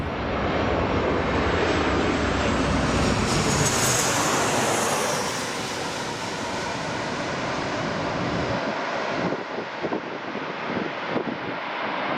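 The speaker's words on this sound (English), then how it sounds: "WestJet will be touching down in a 14-year-old Boeing 737-800" A WestJet Boeing 737-800 roars past on landing at LAX, its loud engine rumble swelling and then easing as wind buffets the microphone. No voices.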